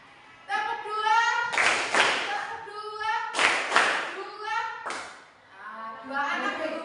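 Classroom students clap in unison twice, two sharp group claps standing out over a teacher talking between and around them.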